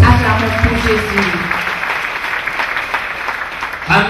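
Congregation applause for Jesus Christ at a church deliverance service, many people clapping in a continuous round after a voice at the start, with the voice returning briefly at the end.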